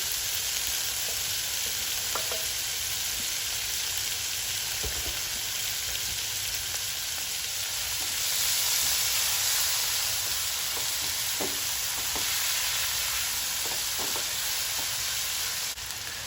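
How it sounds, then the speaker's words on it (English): Steady loud sizzling as tomatoes, scallions and chopped celery hit a hot stew pot for grey snapper stew, a continuous frying hiss with faint stirring clicks and small pops throughout. "I'm now going to add the tomatoes and scallions, my chopped celery."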